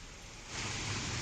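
Heavy, continuous downpour in Sawai Madhopur district, amid waterlogged streets, makes a dense, steady hiss that swells louder partway through, with no voices.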